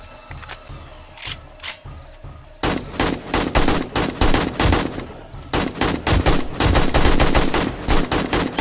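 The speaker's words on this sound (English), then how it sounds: "Kalashnikov." Bursts of Kalashnikov rifle fire in the video game 7 Days to Die, loud rapid automatic volleys of near shots that start sparse and then run in dense, continuous strings, heard alone.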